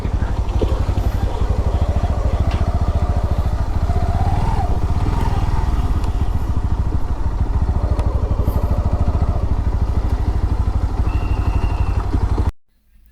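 Motorcycle ridden into a parking area at Mahabalipuram Shore Temple, its engine chugging loudly and steadily at low speed with some clatter, then cutting out abruptly at the end.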